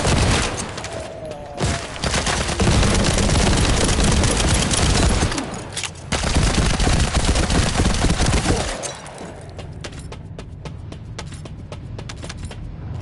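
Dense, loud automatic gunfire from The First Descendant, running as sustained bursts with brief breaks before it thins into scattered sharper shots and crackle toward the end.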